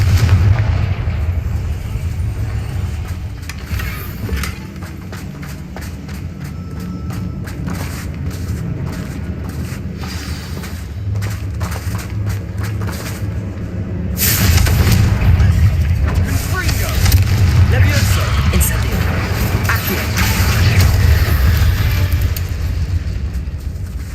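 Incendio and Confringo spell blasts in the Hogwarts Legacy video game land as a rapid run of booming bursts and crackling pops over a dense rumble, growing louder and fuller in the second half.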